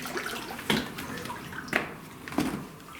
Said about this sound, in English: Oh, there's water.